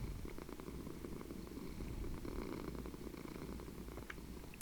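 A cat purrs in the Minecraft video game, with a soft, continuous low rumble that stays steady and quiet throughout and no one speaking.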